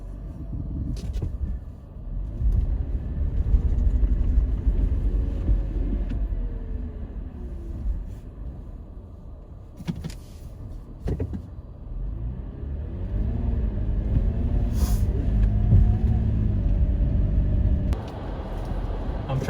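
Car driving slowly through slushy snow on a forest track at about 3,000 feet, engine rumbling steadily and loud up close, with tyres churning slush and occasional knocks and thumps throughout.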